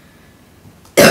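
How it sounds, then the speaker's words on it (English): A single sharp, loud cough from a sick person bursts out at the end after near silence. "sorry for the cough, I am pretty sick"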